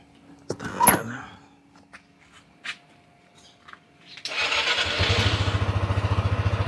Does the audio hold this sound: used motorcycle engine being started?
yes